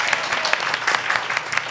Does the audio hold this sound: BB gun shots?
no